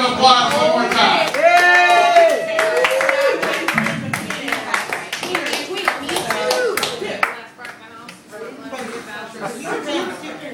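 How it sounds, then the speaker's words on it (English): A live comedy-show audience claps loudly for a comedian while voices call out over it. The clapping thins and fades after several seconds, leaving talk and scattered noise. "So have a big round of applause one more time"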